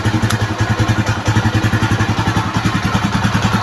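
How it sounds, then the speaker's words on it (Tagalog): A Rusi Macho TC 175 motorcycle engine runs steadily at idle nearby, a loud, even, rapid thumping pulse that holds without change throughout. "yan yung engine sound niya so far tahimik na tahimik pa"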